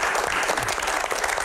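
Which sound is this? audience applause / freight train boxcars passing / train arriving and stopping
audience applause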